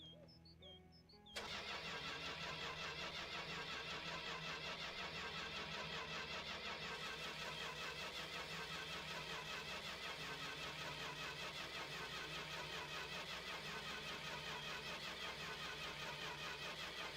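An MWC Corris Rivett engine that has stood cold for a long time cranks and catches after a brief quiet moment, then settles into a loud, steady, continuous run close by with no talking.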